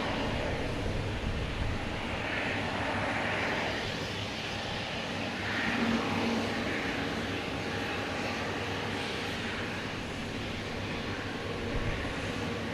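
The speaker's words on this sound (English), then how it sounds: "Next to arrive, American Airlines coming in from Charlotte" An American Airlines Airbus A220 arriving from Charlotte at Boston Logan Airport produces a steady, moderately loud jet roar that holds broadly and evenly, swelling slightly around the middle and never dropping away.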